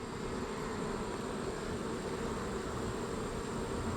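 Honeybees in a very large hive buzz in a steady, dense drone that holds close and even throughout, with no voices over it.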